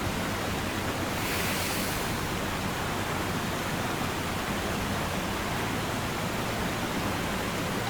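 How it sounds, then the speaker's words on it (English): Water sweeps down a drain in the Spirit Hunter: Death Mark video game, a steady rushing wash of noise with a brief brighter surge near the start, continuous and moderately loud. "the pooling water suddenly starts sweeping in another direction down to a drain"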